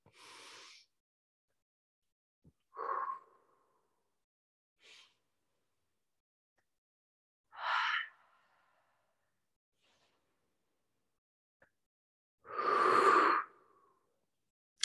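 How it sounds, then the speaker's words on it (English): Slow breathing during a yoga session: four or five soft, separate breaths, inhales and exhales spaced several seconds apart in a quiet room, the last one longest and fullest. "Take a few rounds of breath."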